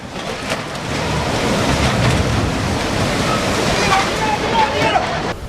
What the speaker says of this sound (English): a massive wall of water capable of sweeping away nearly everything in its path